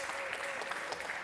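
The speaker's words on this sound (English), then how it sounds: "if you can just stand up and give them a round of applause as they take their seats" Audience applause for guests taking their seats at a fireside chat on design and innovation, a steady, dense clapping from a crowd that stays even throughout.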